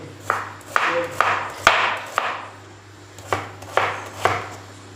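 A large kitchen knife from a three-piece Meesho set chops through food on a board in a series of close, crisp strokes, some quick pairs and some spaced out, with no speech.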